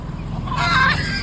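Hens and chicks clucking nearby, a short burst of fowl calls rising over a steady background hum.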